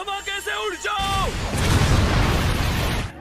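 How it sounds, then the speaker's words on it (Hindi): A blast erupts in a Hindi-dubbed Jujutsu Kaisen anime scene, a booming roar that follows a short burst of music and holds for about two seconds before cutting off. "धमाके से उड़ जाओ।"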